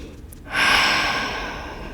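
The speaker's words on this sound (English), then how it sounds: "Take a deep breath in." A deep breath in during a Pilates workout: after a quiet start, a clear, close airy inhalation swells and slowly tapers over more than a second.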